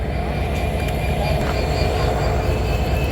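Passenger train interior in Bangladesh while riding toward Joydebpur, a loud steady rumble of wheels on rails with rhythmic low clatter and a faint high whine, no voices.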